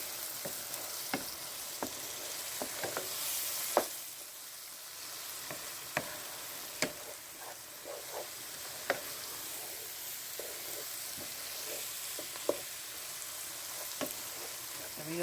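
Flour cooks in fat in a pan, a soft continuous sizzle under repeated sharp scrapes and taps of a utensil against the pan at irregular intervals, close by and with no speech.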